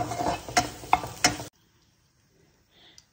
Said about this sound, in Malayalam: ആ പാനിലേക്ക് തന്നെ അല്പം എണ്ണ ഒഴിച്ചതിന് ശേഷം നമുക്ക് ചിക്കൻ ഒന്ന് ഫ്രൈ ചെയ്തെടുക്കാം.